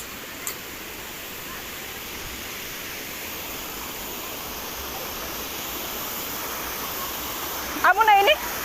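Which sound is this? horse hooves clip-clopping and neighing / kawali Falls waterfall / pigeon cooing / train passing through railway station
kawali Falls waterfall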